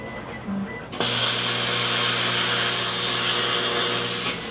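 A CNC plasma cutter fires up for a first test cut, an abrupt onset into a loud steady roaring hiss with a constant low hum underneath, holding evenly for several seconds.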